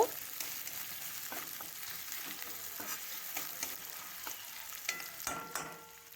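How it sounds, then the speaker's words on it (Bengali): Chopped onion fries in mustard oil in a wok, a soft continuous sizzle with occasional stirring scrapes and clicks, close and fairly quiet with no talking. "তেলের মধ্যে একটা বড় সাইজের পেঁয়াজ নিয়েছি, নিয়ে কুচি করে কেটে দিয়ে দিলাম। তো পেঁয়াজটা লাল লাল করে ভেজে নেব।"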